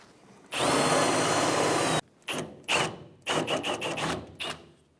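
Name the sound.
drill drilling out rivet head on Ford Ranger bracket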